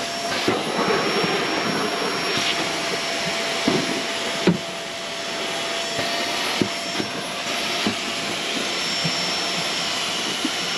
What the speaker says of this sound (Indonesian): Kita kakak ni vacuum kat dalam.